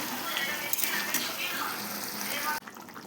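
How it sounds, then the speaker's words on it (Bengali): Hot water goes into a pan of frying mutton and potatoes, producing a loud, steady hiss and sizzle that drops off sharply near the end. "মাংস আমি গরম জল দিয়ে দিলাম"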